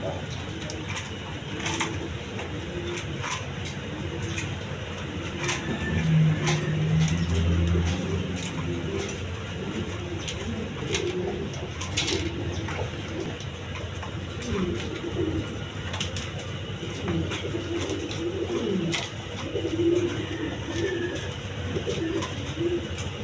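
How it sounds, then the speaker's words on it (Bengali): A pair of high-flying Giribaz pigeons coo repeatedly in low throaty bursts over a continuous background hum, with talking and faint traffic noise nearby. "দর্শক এখানে এক পেয়ার হাই ফ্লাইং গিরিবাজ কবুতর দেখেন"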